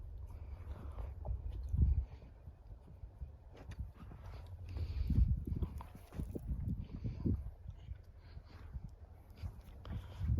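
A draft horse walks with irregular, muffled hoof clops on soft ground, fairly close but quiet, with rustling and low background noise between steps.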